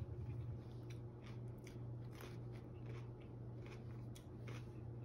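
A mini cucumber dipped in spicy hummus is bitten and chewed close up, giving soft, crisp crunches in several short bursts over a quiet background, with no talking.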